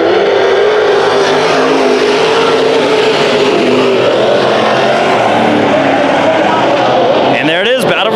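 Race cars battle around a dirt speedway track in Arizona, engines roaring at full throttle in a loud, constant drone, with a car sweeping past near the end.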